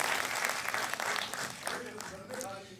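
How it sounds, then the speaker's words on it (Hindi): An audience at a comic poetry gathering applauds, a dense, fairly distant wash of many hands clapping that gradually thins out, with someone talking over it. "ज़रा सा ताली बजा के जब ज़रा सा हौसला बनाएं"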